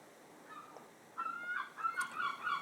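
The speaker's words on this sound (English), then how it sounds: "Sorry about the seagulls, you're very noisy." Several seagulls call nearby in a series of honking, squawking cries that grow busier toward the end, heard over a steady low background hiss with no talking.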